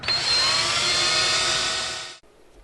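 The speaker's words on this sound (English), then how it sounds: "drill first with a larger size drill through the acrylic" A steady, high-pitched whine of a power drill boring through acrylic on a cockpit bulkhead instrument panel, loud and continuous for about two seconds before cutting off abruptly.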